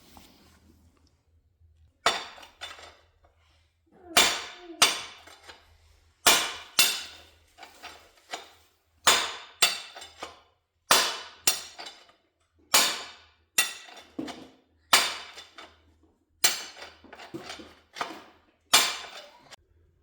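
Steady metallic hammer strikes against a John Deere load control shaft being tapped out, roughly one blow per second over a quiet shop background, each impact sharp, close and ringing briefly.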